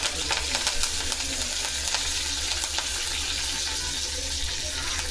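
Curry leaves crackling in hot oil alongside fried dried red chillies for a coriander, mint and tomato chutney tempering, a close, steady sizzle with sharp pops scattered throughout.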